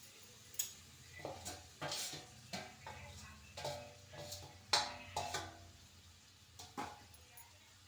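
Cauliflower and fenugreek greens being stirred in a pan over a lowered gas flame, with a series of irregular spoon scrapes and clinks against the metal at close range and a faint sizzle underneath.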